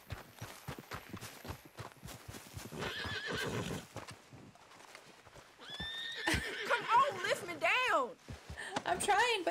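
In the Red Dead Redemption 2 video game, a horse gives several loud, rising neighs and whinnies while hooves clop in a quick, irregular rhythm and snorts and rustles sound nearby.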